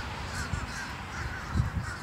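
Several crows caw back and forth in a large gathering outdoors, overlapping harsh calls with a couple of louder bursts near the end, steady and fairly close.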